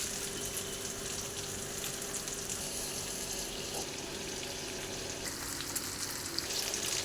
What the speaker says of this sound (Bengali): মশলা ভাজা হয়ে গেছে, এবার আমি দিয়ে দেবো এর উপরে ইলিশ মাছ।